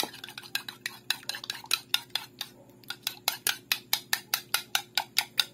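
Ingredients being stirred in a bowl with a utensil, giving quick, regular clinks and scrapes close by, about three or four strokes per second, with no talk.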